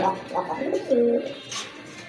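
Racer pigeons coo in low, rolling phrases close by, with a clear drawn-out coo near the middle, while a voice talks alongside.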